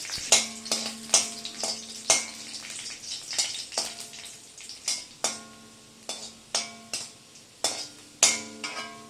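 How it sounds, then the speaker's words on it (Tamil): Raisins fry in oil for Kashmiri pulao as a spoon strikes the pan in regular, ringing metallic clinks over a soft background sizzle. "இன்னும் திராட்சை வறுத்துக்கோ."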